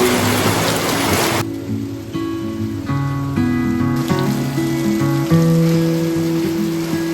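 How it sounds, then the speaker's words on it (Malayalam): A loud rush of heavy rain at Ponmudi, near Trivandrum, opens the scene, then continues as a softer hiss beneath steady tonal music. "നല്ല കിടിലം മഴ പെയ്യുന്നുണ്ട്."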